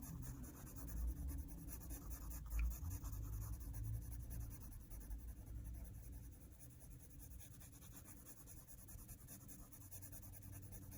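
A colored pencil scratches steadily over paper while shading a mermaid's tail in an adult coloring book. The strokes are close, faint and continuous, with no speech.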